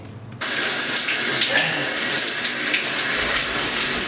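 Shower running water, a steady broadband rush that starts abruptly after a brief quieter moment and continues loudly and evenly to the end, close by.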